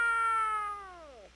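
A single long, strained meow from a cat in the game Gaokao Love 100 Days, loud and near, holding steady before bending down in pitch and trailing off.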